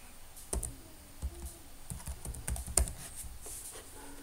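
Keys clatter on a computer keyboard in a quick, irregular run of close, light taps and clicks, with no talking.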